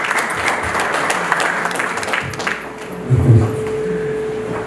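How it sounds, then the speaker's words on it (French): An audience at a Senate evening event applauds, a busy clatter of hands that thins out midway, followed by a brief low rumble of voices and movement in the room. "Sous vos applaudissements,"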